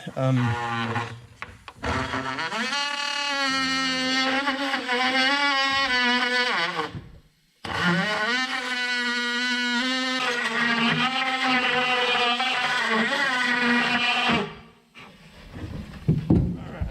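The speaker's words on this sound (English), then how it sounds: "what do you call this thing? Vibrating tool." An oscillating multi-tool trims wood in a steady, loud buzz during log cabin work, in two long bursts with a short pause between.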